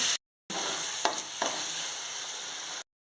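Steady frying sizzle of spinach paste in a pan with a couple of soft stirring scrapes, close up, starting after a brief silence and cutting off abruptly.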